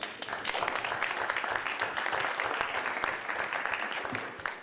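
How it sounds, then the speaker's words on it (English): A crowd claps steadily in a sustained round of applause, dense and even throughout, heard from within the room. "So give it up and a round of applause for Brandon Andrews."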